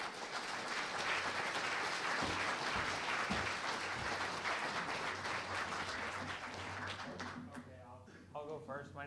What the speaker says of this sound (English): Let's have a round of applause for Diane and Tanner.